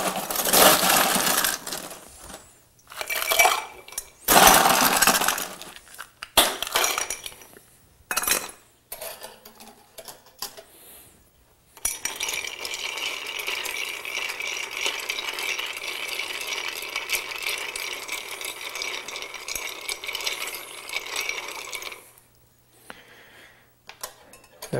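A Vesper cocktail of clear spirits is stirred with a bar spoon in an ice-filled mixing glass, bursts of ice clinking and rattling followed by a long, steady swirl of close, continuous ice chatter that stops near the end.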